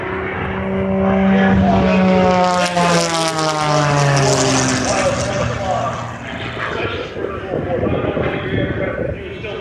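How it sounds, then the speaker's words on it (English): A propeller aircraft performs a string of snap rolls at the Owls Head, Maine air show, its engine droning loudly with shifting pitch while an announcer talks over it. "7 or 8 snap rolls there."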